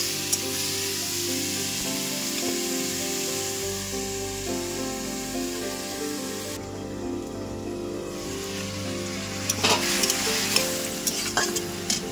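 Fish curry with small mourala fish, green tomato, salt and turmeric cooks in a pan, giving a steady, close sizzle and bubbling hiss that runs through the whole stretch with light stirring scrapes and no talk.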